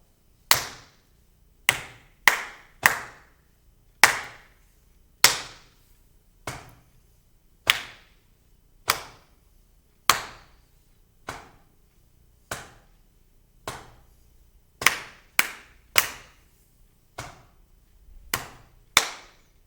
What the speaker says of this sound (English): we are only clapping